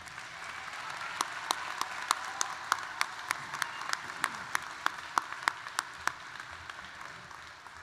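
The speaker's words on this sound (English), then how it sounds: "let's give our graduates one final round of applause" Audience applause for graduates closing a university fall commencement ceremony, steady clapping from a sizable crowd with a few sharp, louder claps standing out rhythmically throughout.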